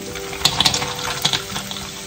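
Cashews and sautéed onions fry in a pan for a kaju paneer biryani curry, a steady close sizzle with a few brief clicks and scrapes of stirring.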